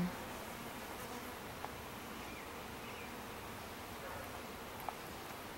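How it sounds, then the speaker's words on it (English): Worker honey bees buzz around their hive in a steady, faint, continuous drone outdoors, with occasional soft ticks and no voices. "Worker bees."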